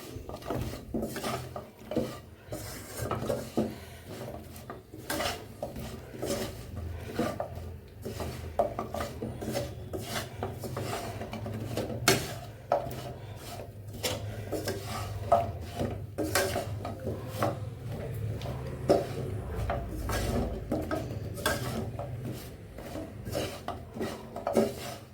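Jaggery-coated khasta nimki snacks are stirred in a pan after the stove is switched off, making continuous irregular scraping and light clinking as the pieces are turned, close and with no talk.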